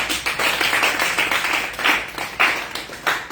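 A congregation at a Christian sermon breaks into lively clapping, many hands beating close together in an uneven, pulsing rhythm, loud and without speech.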